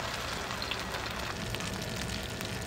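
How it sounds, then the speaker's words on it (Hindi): Aloo egg kababs fry in oil in a grill pan with a soft, even crackling hiss that stays steady and fairly quiet throughout. "इसको दोनों तरफ से अच्छे से गोल्डन फ्राई कर लूँगी"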